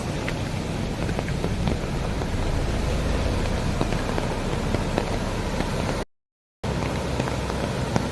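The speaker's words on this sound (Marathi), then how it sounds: "कारण की पाऊस चालू झालाय आता" Steady rain pouring down, a dense continuous patter with scattered sharper drops hitting nearby surfaces; it cuts out briefly near the end, then resumes.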